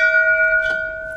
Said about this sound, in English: if I walk over there and ring that bell now